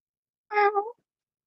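A single cat meows once, close and clear, a short rising-and-falling call in otherwise silent surroundings.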